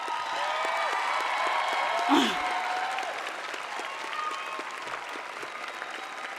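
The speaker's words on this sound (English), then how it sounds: "Applaud for them now." Audience at a university commencement ceremony applauds steadily, a dense continuous wash of many hands clapping that holds at an even level throughout, with a brief voice rising over it near the middle.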